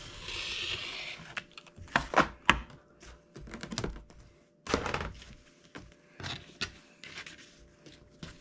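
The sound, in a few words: cutting quilt fabric down the middle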